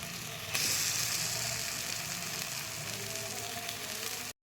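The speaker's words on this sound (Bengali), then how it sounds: "এবার আমি চিকেনগুলো এর মধ্যে দিয়ে দিচ্ছি অল্প অল্প করে" Chicken pieces dropped bit by bit into cooked spice paste for chicken dum biryani, setting off a loud, steady, close sizzle that holds without pause until it cuts off, with no talk.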